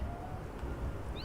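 A cat meows in the video game Little Kitty, Big City, one short rising call near the end of the clip over a steady low game background, with no one speaking.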